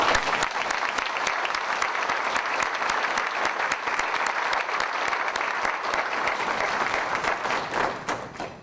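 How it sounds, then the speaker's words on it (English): Sustained audience applause for a middle school Young Marines group at an employee-of-the-year celebration: dense, continuous clapping from a large standing crowd, loud and even for several seconds before tailing off at the end. "Give him a round of applause."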